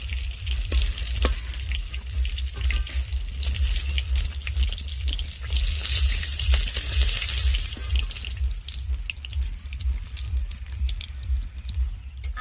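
Pieces of silver carp frying in hot oil, a continuous close sizzle with crackling pops and a low steady hum underneath, no talking.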